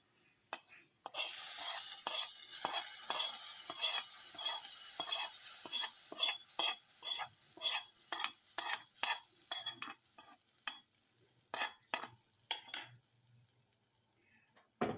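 Hot tempering poured into idli sambar sets off a brief loud hiss, followed by a long run of rhythmic spoon strokes clinking and scraping against the pot, close and fairly regular.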